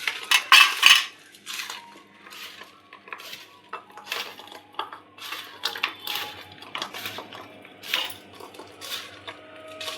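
A spoon stirs a cashew-mango fenugreek pickle in a metal bowl, scraping and clinking repeatedly and busily, loud and close throughout.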